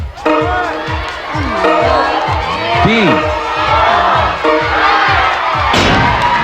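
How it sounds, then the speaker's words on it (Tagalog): Studio audience at a Philippine noontime variety show shouting and cheering loudly as one crowd, sustained throughout with overlapping voices and chants, while a host talks over the noise. "Sigaw na nila, oh."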